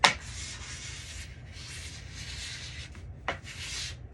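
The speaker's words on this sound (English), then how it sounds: "And you just keep scraping until you don't get any more." Wax scraped off a ski base during mid-season waxing, rhythmic rasping strokes in bursts with brief pauses, close and moderately quiet.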